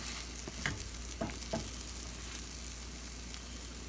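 A pancake cooks in a hot pan, giving a steady close sizzle with a few soft scraping or stirring sounds early on, and no talking.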